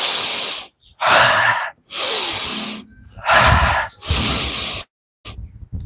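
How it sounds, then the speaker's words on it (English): Deep breaths drawn in and let out during a calm guided breathing exercise, five strong airy bursts in a steady rhythm with short pauses between, close and fairly loud, no talking. "So I breathe it in"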